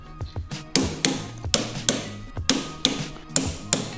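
A torque wrench tightens motor mount bolts on a Limitless frame during an Atom80 install, heard as a quick series of sharp metallic taps and clicks, close and moderately loud, coming in an uneven rhythm with no talking.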